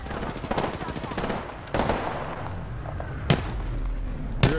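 Gunfire in the Apex Legends video game: rapid automatic bursts crackle in quick succession, pause, then single sharp shots ring out, close and loud, with players' voices talking over the action.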